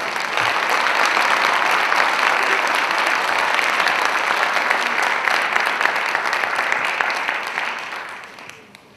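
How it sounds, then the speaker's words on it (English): A large audience applauds steadily for a composer at Jackson State University, a dense, sustained wash of clapping that holds for most of the stretch before tapering off at the very end. "I think that deserves a round of applause for Ms."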